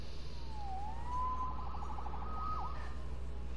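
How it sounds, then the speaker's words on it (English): A single police siren in a PS4 video game wails and warbles, rising then fluttering in pitch, fairly faint above a steady low rumble of engine-like background noise. "Saved by the siren."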